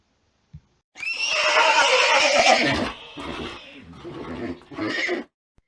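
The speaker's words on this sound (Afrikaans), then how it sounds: "Hierdie plaasdier is 'n perd en sy geluid noem 'n mens rinnik." A farm horse lets out a loud, close, drawn-out whinny that fades and then rises again into a shorter second neigh.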